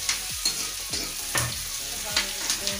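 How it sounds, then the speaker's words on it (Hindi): Onion, chilli and garlic fry in a wok on a gas stove for chow mein, giving a steady close sizzle broken by repeated stirring scrapes, about one every half second, with no talk. "अभी प्याज, मिर्च और लहसुन डाला हुआ है। अब थोड़ी देर इसको पकने देंगे"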